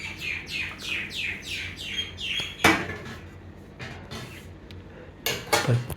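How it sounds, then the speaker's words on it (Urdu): A common myna chirps in a quick series of repeated descending calls, fairly close, followed by scattered clatter of household dishes and doors. "پرندے کی آواز آ رہی ہے. وہ دیکھ تو ادھر ہے کس طرح ہے. ہاں وہ دیکھیں وہ لالی جو ہے نا وہ بیٹھی ہوئی ہے."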